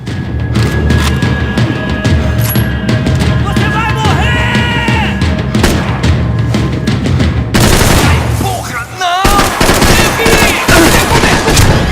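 A golden gun fires repeatedly in the video game Max Payne 3, a loud, sustained barrage of shots mixed with yells and booms over game music, then a brief break before firing resumes.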